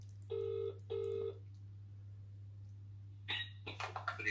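A phone on loudspeaker plays two short dialing tones, goes quiet over a low steady hum, then a brief cough or throat clearing follows near the end.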